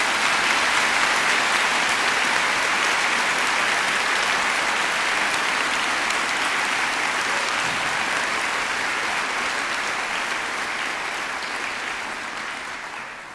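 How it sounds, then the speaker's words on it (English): Crowd applause at an evening vigil for a school shooting victim, broad sustained clapping from many people that slowly fades toward the end. "maybe we should give them a round of applause for being here"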